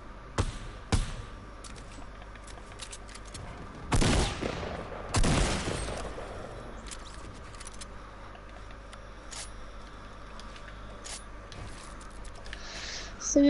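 Video game gunfire: scattered single shots and short bursts, with two loud, dense volleys of fire near the middle, over quieter background game sounds.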